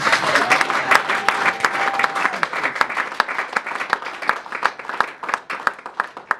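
A church congregation bursts into dense, sustained applause, many hands clapping together with some sharp individual claps standing out, and a voice sounds briefly over the start.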